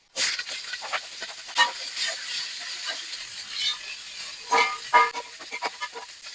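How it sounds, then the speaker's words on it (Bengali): Carrots and beans frying in oil in a wok, a steady sizzling hiss with irregular crackling pops and spits rising and falling, heard close with no talk. "এক পাশে গাজর আর বিনস ভাজা হচ্ছে আর এক পাশে কপিটা ভেজে নিই"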